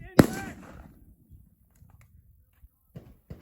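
AK47 rifle fired outdoors: one loud, close shot with a trailing echo, followed by faint knocks and low background noise.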